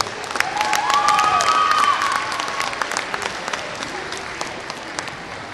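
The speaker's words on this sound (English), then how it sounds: "Please give one more round of applause for all of our seniors this evening." Gym crowd applauding and cheering for seniors on senior night at a boys high school basketball game, a loud wash of clapping that peaks early then thins out, with a whistling tone over it.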